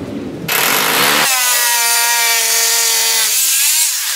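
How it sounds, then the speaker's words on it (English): Something scrapes hard and continuously across a wooden board as it is chiseled down to fit, loud and close for about four seconds, with a rough rasping texture and a sustained squealing tone. "Jerome, you just need to chisel away so this board fits in."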